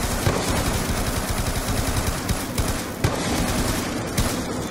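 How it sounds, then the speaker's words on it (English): Rapid automatic gunfire from Black Ops 2 custom zombies rattles nearly nonstop, dense overlapping shots close and loud with no pauses. "Sometimes I think I'm the only one up here shooting."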